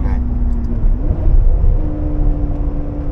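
A Ferrari 599 GTB Fiorano's V12 engine holds a steady, loud, continuous drone with a slight shift in pitch partway through, and faint voices in the background.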